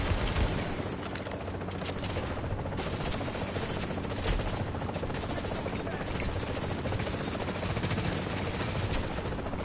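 Rapid automatic gunfire in the video game The Division, dense continuous bursts blending with a helicopter-like roar, loud and sustained with no pauses.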